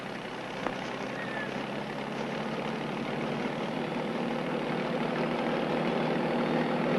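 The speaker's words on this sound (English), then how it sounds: "The helicopter is needed for the next job, the weighing of the doe" Helicopter engine running at an outdoor wildlife site, a continuous loud whine and rush held steady at close range and rising slightly in level.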